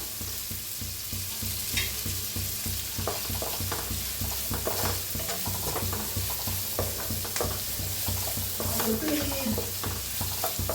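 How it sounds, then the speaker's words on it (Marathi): Finely chopped onions fry in a pan with a steady, close sizzle while being stirred now and then, clattering lightly throughout with no voices. "बारीक असा कांदा कापून घेतलेला, छान असं भाजून घ्यायचं कांद्याला"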